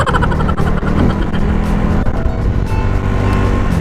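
Old Yamaha Mio scooter with stock parts and light roller weights, engine revving loudly and close in a continuous rough buzzing drone with small rises and dips in pitch.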